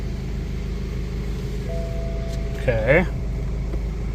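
A BMW car with an N47 diesel engine runs with a steady low rumble, holding constant throughout, while a person speaks briefly over it near the end.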